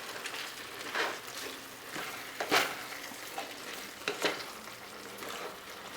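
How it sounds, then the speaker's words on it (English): Black beans being stirred into a gravy mixture for a vegetarian shepherd's pie: soft wet stirring scrapes with a few louder spoon strokes over a quiet, steady background, close up and fairly faint. "And then I'm gonna mix all of this into this gravy mixture."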